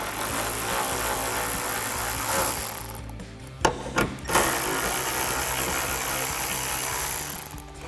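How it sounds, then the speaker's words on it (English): A powered driver with a 7mm socket backs screws out of the deck lid on a 2024–2025 Mustang: a steady close whirring, broken by a couple of short sharp bursts in the middle. "Let's take a 7mm socket and remove these 2 screws first."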